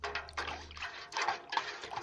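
White fertilizer powder being stirred into a bucket of water, giving soft sloshing and swirling water sounds in repeated strokes, close and fairly quiet.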